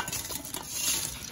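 Seafood boil pieces being stirred and tossed in buffalo sauce: a brief, continuous wet churning with soft scraping against the bowl, close and moderately loud, with no talking.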